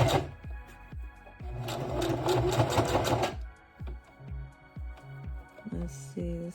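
A sewing machine stitches hair wefts onto a lace wig with 613 blonde highlights, running in a fast rhythmic chatter that speeds up in the middle and then slows to separate stitches, close and clear.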